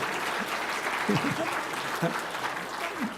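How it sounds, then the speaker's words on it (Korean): A church congregation applauds during a Sunday morning service, steady clapping filling the room under a voice speaking over it. "박수해 주세요"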